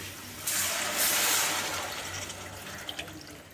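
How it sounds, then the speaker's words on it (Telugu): A glass of water pours steadily into a pot of masala vada pulusu with a rushing splash, close and fairly loud, then trails off into softer trickling. "ఇప్పుడు దీంట్లోకి ఒక గ్లాస్ వాటర్ అయితే పోసుకుందాం"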